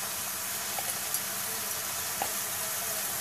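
Turmeric, chili powder and curry masala powder sizzle in a hot pan of aloo matar, a steady close frying hiss with a few faint pops and stirring clicks.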